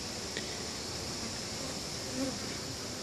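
Honeybees from a bird house cut-out buzzing around a hive outdoors, a faint continuous hum with a few brief louder passes near the listener, no speech.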